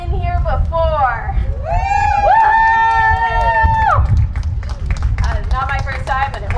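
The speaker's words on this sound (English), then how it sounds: "Give me a cheer if you have been here before" A protest crowd cheers at a company headquarters during an Earth Day clean energy action: loud, dense cheering with high whoops and shouted voices over a constant rumble, plus scattered clapping.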